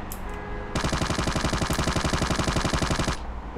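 Rapid automatic gunfire in the Ring of Elysium battle royale game, a loud sustained burst of evenly spaced shots lasting over two seconds after a quieter lead-in.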